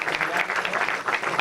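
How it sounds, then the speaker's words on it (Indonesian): Brief burst of audience applause at a university orientation training session, quick dense clapping from a crowd, moderately loud and steady for its short span. "Ya, tepuk tangan dong."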